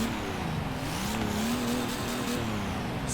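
Game engine sound of a maxed-out Nissan Titan with a Cummins diesel swap in Forza Horizon 3, a steady sustained engine drone with a slowly rising pitch, heard alone at moderate level.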